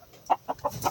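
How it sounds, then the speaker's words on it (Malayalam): A rooster gives four short, evenly spaced clucks close by, soft and clipped against a quiet background. "പൂവൻ കോഴി കേട്ടോ"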